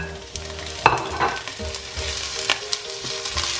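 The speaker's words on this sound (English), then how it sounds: "So add my oil. Right, vegetables, onion, and the shallot going in there." Onion and shallot frying in hot oil in a pan while making Ghanaian gari fortor, a steady close sizzle with a few stirring scrapes and clicks, no voices.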